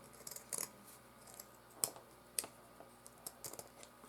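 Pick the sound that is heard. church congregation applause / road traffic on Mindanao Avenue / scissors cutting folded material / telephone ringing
scissors cutting folded material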